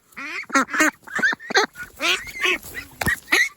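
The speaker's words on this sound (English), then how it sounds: "The other ducks are following." Ducks quack loudly and close by in the dark, a rapid run of honking calls overlapping one another in an uneven rhythm.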